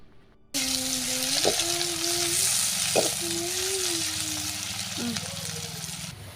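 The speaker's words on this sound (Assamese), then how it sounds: "তেলখিনি গৰম হওঁতে মই কেইখিলামান তেজপাত আৰু পিঁয়াজখিনি দি দিছোঁ" Bay leaves and onions frying in hot mustard oil in a wok for an Assamese black pepper local chicken curry, a loud steady sizzle starting abruptly, with tonal squeaks and scrapes of stirring over it.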